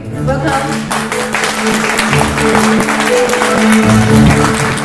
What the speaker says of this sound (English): a round of applause to welcome the Chief Secretary